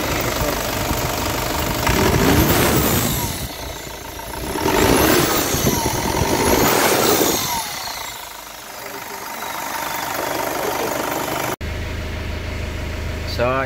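An Isuzu Crosswind diesel engine runs and revs after a low-power, smoky fault, rising and falling in loud surges with a steady idle between, ending in a shift to a quieter, muffled hum.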